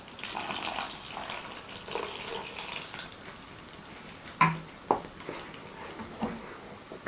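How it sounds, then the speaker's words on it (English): Water is poured and splashes into a pan of brinjal curry, followed by a few soft clinks and spoon scrapes, fairly quiet and close. "For consistency, you can add water."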